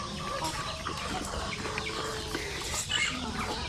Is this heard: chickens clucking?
yes